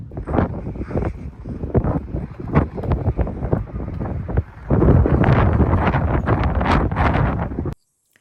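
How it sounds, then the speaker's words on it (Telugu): Strong wind on Mount Wellington, Tasmania, gusting in bursts of low rumbling buffeting, growing louder and more constant midway before cutting off abruptly. "చూసారా ఎంత విండ్గా ఉందో. చాలా విండీగా ఉంది."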